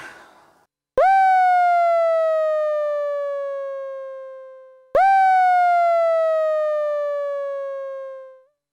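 Two long tones from the tone channel of a Soviet Lel UDS drum synthesizer, each starting with a sharp attack and then sliding slightly down in pitch as it slowly fades, preceded by a brief noisy burst.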